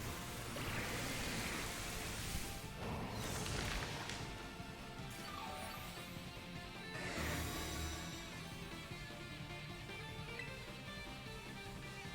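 Rain summoned by the Rain Dance move in a Pokémon raid battle, a steady hiss of falling rain with booming crashes layered over game music, moderately loud throughout.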